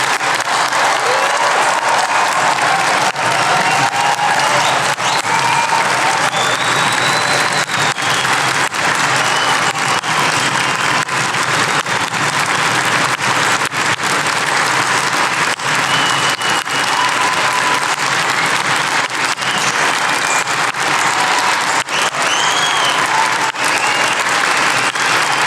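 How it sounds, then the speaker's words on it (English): Sustained, loud applause from the audience for graduates at a Brighton degree ceremony, a dense, unbroken roar of many hands clapping in a large hall, with faint cheers rising through it for the whole stretch. "Let's give them one huge last round of applause before we finish today."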